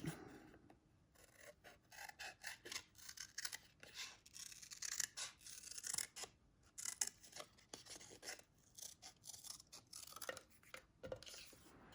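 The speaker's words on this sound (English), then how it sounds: "cut this one also with these scissors" Close, crisp snipping and rasping of scissors cutting through paper, in short repeated strokes with brief pauses between cuts.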